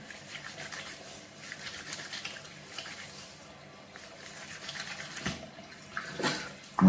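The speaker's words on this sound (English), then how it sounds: "Wash your face in the hottest water you can." Running tap water, hot, for washing a face at a sink, a steady wash of flow and splashing with a few louder splashes near the end, fairly quiet and close, no talk.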